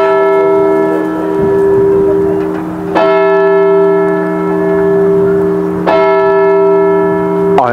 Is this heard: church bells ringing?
yes